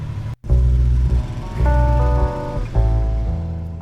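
A motorcycle engine, on a group ride through the Alaric and Corbières, starts and runs close by in loud, uneven bursts with a brief dropout near the start and rising revs.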